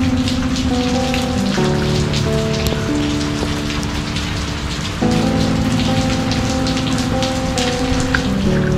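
Heavy rain pours onto a surface nearby in a loud, continuous hiss of dense drops, with low humming tones in the background.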